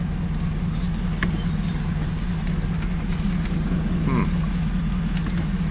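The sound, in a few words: 1989 Pontiac Trans Am car reversing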